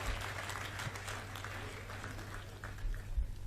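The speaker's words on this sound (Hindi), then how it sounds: "एक बार ताली बजा दीजिएगा" Steady, fairly faint applause from the audience at a Hindi comedy poetry gathering, an even patter of many hands that holds for a few seconds without breaks.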